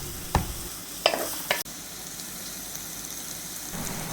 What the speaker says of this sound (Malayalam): അത് നമുക്ക് ഇതിനകത്തേക്ക് ഇട്ടൊന്ന് നന്നായിട്ട് വഴറ്റിയെടുക്കാം